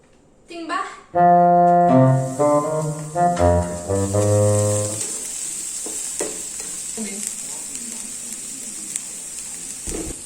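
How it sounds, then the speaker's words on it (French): Onions hit hot oil and fry with a bright, steady sizzle that settles into a continuous crackling hiss, preceded by a brief stretch of speech at the start. "Je pense que mon huile elle est chaude, donc je vais aller mettre les oignons dans l'huile"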